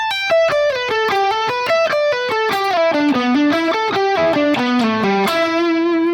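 Distorted electric guitar runs a three-note-per-string pentatonic sequence down the scale, with quick picked notes stepping lower in a steady, repeating rhythm. The tone is loud and upfront, with no talking.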